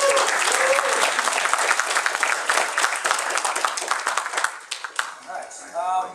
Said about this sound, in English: So a round of applause for Thorgy and Havelock for sticking this thing out in the beginning.